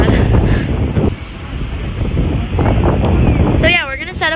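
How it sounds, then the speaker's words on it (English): Strong wind gusts at a windy beach, roaring steadily and buffeting the microphone in a loud, continuous rush, with faint voices in the background. "But the problem is the wind."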